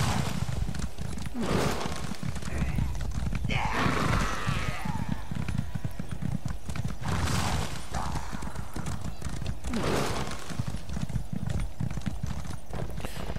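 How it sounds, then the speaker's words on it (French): Horse hooves clip-clop steadily at a gallop in The Elder Scrolls Online, close and continuous, with a few whinnies breaking in over the rhythmic beat. "On va prendre le cheval, ça ira plus vite."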